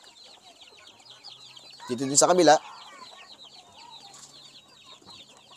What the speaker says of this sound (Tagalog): And syempre, meron din po tayong mamahaling manok.